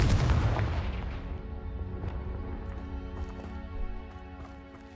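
Confringo spell explosions in the video game Hogwarts Legacy, a heavy booming blast up front that rumbles and decays into scattered crackles and debris clatter, with a smaller thump near the end.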